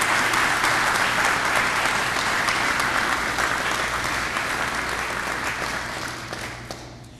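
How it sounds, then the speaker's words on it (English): A crowd at a police awards ceremony gives a round of applause for officers' families, sustained dense clapping that stays strong and gradually thins and fades toward the end. "So how about a round of applause for the families that we have that love us so much?"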